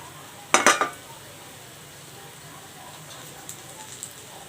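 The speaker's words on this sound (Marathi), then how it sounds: "आता ही जी खजूर आहे ही याच्यामध्ये टाकायची आणि आपण याला थोडीशी नरम करून घेऊया परतून घ्यायची" Dates softened and stirred in ghee in a pan for a sugar-free dry fruit sweet, with a quick burst of sharp spoon-on-pan clinks early on, then a low quiet background and a few faint taps.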